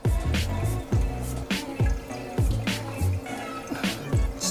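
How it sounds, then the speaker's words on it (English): Water overflows into a newly started Red Sea Reefer 350 marine aquarium that has a slight leak at the emergency valve, with steady rhythmic gurgling plops and drips heard close up over a constant watery rush. "the water's coming up and it's overflowing in."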